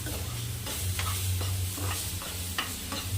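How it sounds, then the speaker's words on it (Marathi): Mango pulp from a homegrown village mango is poured into lightly roasted semolina for sweet mango shira, sizzling steadily in the pan, with repeated soft stirring scrapes through the close, continuous hiss. "त्याच वाटेने मी आंब्याचा रस टाकत आहे"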